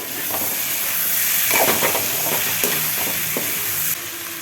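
Chopped capsicum sizzles and hisses steadily in a hot pan for a chicken dish, with a few stirring scrapes and clatters partway through and no talking.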